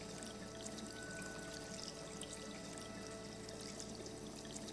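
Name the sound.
water streaming from a faucet, from the video game Rue Valley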